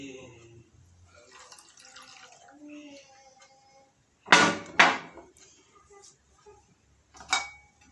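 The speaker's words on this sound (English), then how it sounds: "And hot water and mix well." Hot water is poured into a bowl of jelly powder and stirred, with two short bursts of splashing pouring and a later brief slosh, heard under soft background voices.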